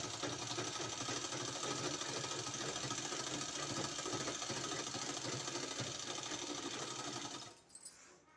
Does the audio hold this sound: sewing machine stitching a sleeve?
yes